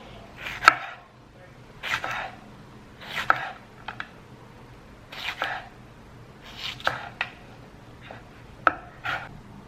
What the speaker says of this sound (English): Jalapenos diced up, a little bit finer than the tomato and the onion.